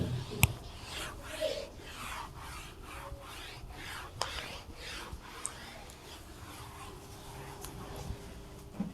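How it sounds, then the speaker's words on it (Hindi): Writing is rubbed off a classroom board during a class 12 maths lesson: about a dozen quick, soft, rhythmic scrubbing strokes, close and fairly quiet, with no talking. "ओके, तो इसे मैं रब करता हूं।"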